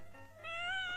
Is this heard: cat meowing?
yes